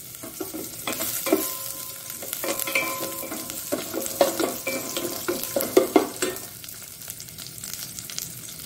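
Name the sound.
cumin and chopped onion frying in ghee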